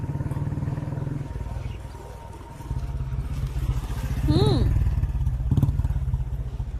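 A motorcycle engine rumbles steadily nearby and swells as it revs, with a brief squeal and clatter near the end.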